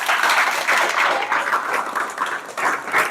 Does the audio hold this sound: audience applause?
yes